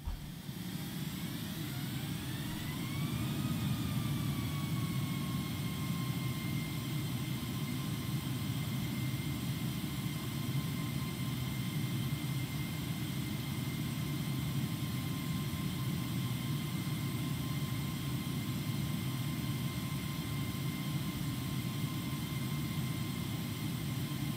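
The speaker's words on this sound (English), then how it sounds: "I'm actually going to go ahead and just use reverse thrust." Airliner jet engines spooling up into reverse thrust in a flight simulator game, a steady loud roar with a whine that rises and settles into a constant high tone, sustained throughout without talk.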